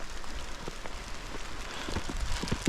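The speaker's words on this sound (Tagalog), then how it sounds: "nabutan na kami ng ulan dito sa trail papunta sa summit" Rain patters steadily on a mountain trail leading toward a summit, a soft, even hiss of drops with a few nearer ticks and taps.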